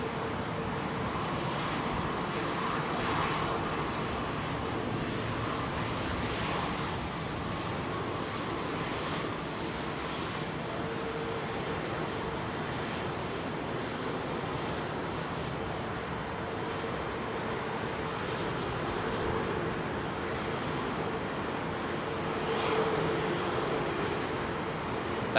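An airliner turns onto the runway at London Heathrow, its jet engines making a steady, fairly distant roar mixed with wind noise.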